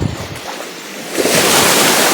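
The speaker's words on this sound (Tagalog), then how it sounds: "Nangahampas na yung alon." Ocean waves crash on an island shore at night, a soft lull giving way to a loud, sustained surge of broadband surf with wind noise on the microphone.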